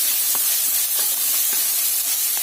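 Mustard seeds, fenugreek, onion, garlic, ginger, curry leaves and green chillies sauté in hot oil, giving a continuous bright hiss of sizzling with faint occasional ticks, steady and close.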